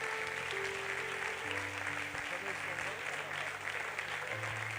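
A church congregation claps steadily through a worship service, a broad continuous wash of applause with sustained organ or keyboard chords underneath.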